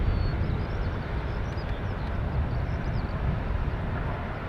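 Aer Lingus airliner from Manchester at Dublin Airport, a steady broad jet roar held at even loudness throughout, with a faint thin whine above it, heard from a distance and with no talking.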